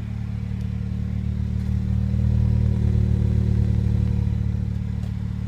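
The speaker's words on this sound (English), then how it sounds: "We'll go ahead and get the exhaust note." A 2014 MINI Cooper S Hardtop engine idles with a deep, steady exhaust rumble, swelling slightly midway before settling again, close and loud.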